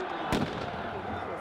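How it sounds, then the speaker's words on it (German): A single firecracker bangs at a football stadium during a 1. FC Saarbrücken home match, one sharp report over a dense, steady crowd murmur. "Es bleibt bei einem Böller"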